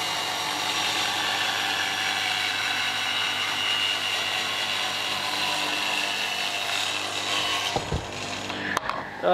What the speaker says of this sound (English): Still using the drill at the minute.